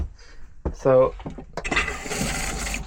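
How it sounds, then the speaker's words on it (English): A motorhome water tap with a broken Reich Twist fitting is turned on, a brief creak and thud followed by a close, steady rush and hiss of running water, after a short spoken word. "that starts the tap"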